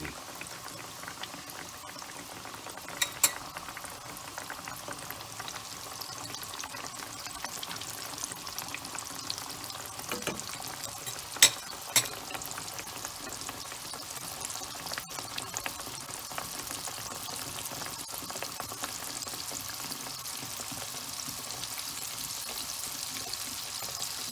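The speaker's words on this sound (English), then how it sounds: "Yeah, nice and bubbling, very good." Thin crumbed pork schnitzel frying in a pan, giving a steady bubbling sizzle with a few sharp pops and crackles throughout, close and fairly quiet.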